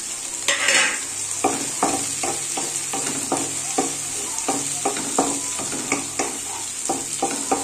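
Onion and chili fry in a pan with a constant bright sizzle, while a spoon stirs and scrapes in quick repeated strokes close by.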